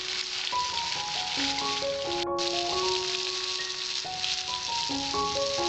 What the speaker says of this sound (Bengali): আমার মাছটা ভাজা রেডি হয়ে গেছে